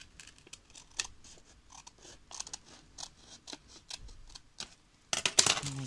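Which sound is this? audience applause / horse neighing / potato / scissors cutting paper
scissors cutting paper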